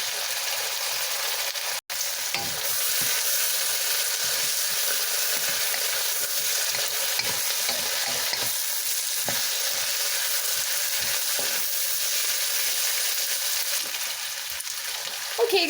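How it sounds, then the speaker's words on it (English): Onions and garlic frying with string beans in hot oil over high heat, a loud, steady, close sizzle with occasional stirring scrapes. "Right now the oil's really hitting those onions and that garlic."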